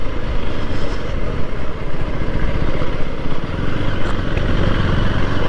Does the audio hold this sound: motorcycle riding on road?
yes